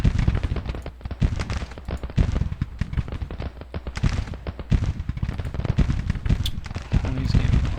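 Massed Civil War troops fire in a Chancellorsville battle in Grand Tactician, a dense, continuous crackle of overlapping musket shots with heavy low rumble, loud and close, sustained throughout.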